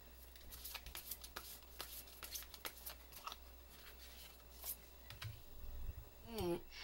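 Tarot cards being shuffled and handled in a quiet room: a soft, rapid riffle of card edges, then lighter slides and taps as the cards are set out, faint and close, with a brief voice near the end.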